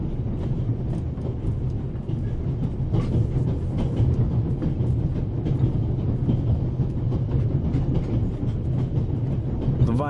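The Orient Express, running from Paris to Istanbul through mountain scenery in The Raven, gives a continuous low rumble with soft rhythmic clatter of wheels on rails throughout, with no talk.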